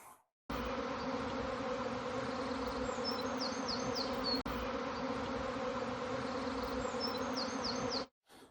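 Honey bees from a swarm-caught colony buzzing around a British treatment-free beehive, a steady dense drone of many wings, with a few individual bees passing close by, continuous and fairly even throughout.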